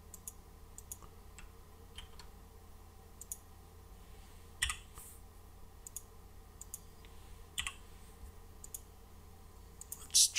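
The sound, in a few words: repeated computer mouse clicking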